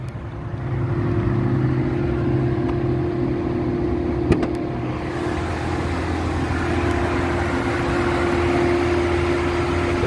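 The 3.2 engine of a 2010 Volvo S80 idles steadily under an open hood with a smooth, even drone and a single faint tick partway through.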